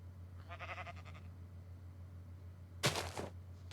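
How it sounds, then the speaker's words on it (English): A sheep in the Minecraft video game bleats softly with a short wavering call, followed later by a sharper burst of sound over a steady low hum. "Stop it, sheep."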